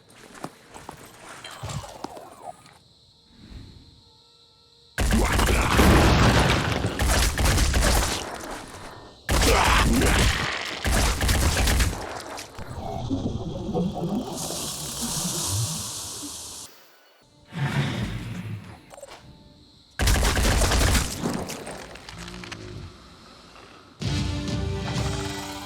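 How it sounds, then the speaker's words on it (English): Explosions and gunfire from the video game Phoenix Point arrive in loud bursts of blasts and crashing impacts, separated by quieter stretches of clattering and rumbling, with several separate heavy hits spread across the sequence. "montages like this, of a lot of explosions and guys blowing up"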